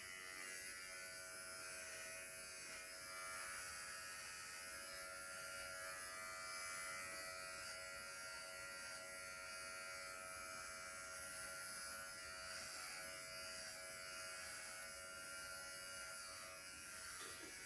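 A Dingling electric shaver runs steadily from start to finish, a continuous close buzzing hum with no talk over it.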